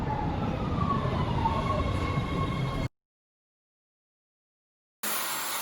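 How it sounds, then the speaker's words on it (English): Low rumble of a subway train arriving at a station with a faint high squeal, then an abrupt cut to silence before the rumble returns briefly. "I got 7 minutes until the train comes."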